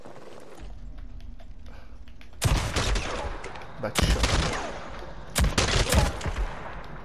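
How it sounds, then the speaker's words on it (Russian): Gunfire in the video game LifeAfter comes in three loud clusters of rapid shots, close and sharp, separated by quieter game ambience, with a brief muttered voice. "Какие-то разные выстрелы непонятные."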